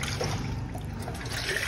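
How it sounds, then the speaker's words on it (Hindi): Water from a glass poured in a home kitchen, a short soft trickling splash heard quietly and close with no talk. "पानी हम थोड़े डालेंगे,"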